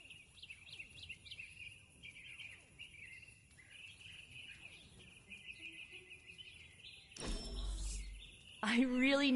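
Birds chirp and trill in the video game Marvel's Midnight Suns, repeated quick high calls over a faint insect-like hum at low level, and a louder mechanical whir with a swelling tone breaks in near the end.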